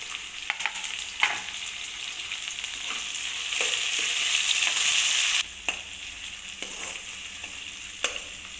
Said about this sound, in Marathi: तेलामध्ये छान असं शिजवून घ्यायचं आहे मऊसर टमाटर